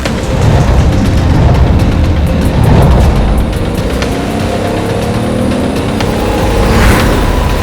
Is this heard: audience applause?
no